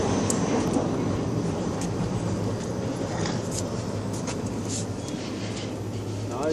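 Steady rumble and rattle inside a moving train carriage on the Mumbai to Jhansi route, continuous rolling noise with faint clicks, and someone talks over it.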